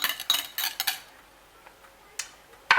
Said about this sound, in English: Continuous stirring till the end.